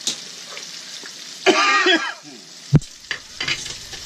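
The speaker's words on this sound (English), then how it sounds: "Couple pieces, let it fry up." A couple of pieces dropped into hot oil in a pan, frying with a steady crackling sizzle, broken by a loud burst and several sharp pops and clatters.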